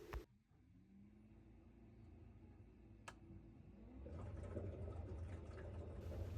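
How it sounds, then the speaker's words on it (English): A boiler fan whirs steadily over gurgling, sloshing condensate water backed up into the heat exchanger, with an EA227 fault, the churning growing noticeably louder partway through, like a washing machine running nearby. "The noise you can hear is the water backed up into the heat exchanger"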